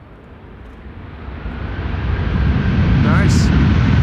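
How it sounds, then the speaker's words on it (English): An 18-year-old Cargolux Boeing 747-400 freighter landing at Amsterdam Schiphol after a flight from Nairobi, its jet roar rising steadily from distant to loud and close, with a brief high whine near the end. "This is Cargolux arriving from Nairobi, 8 hours and 28 minutes on the way. 747-400 freighter, 18 years old."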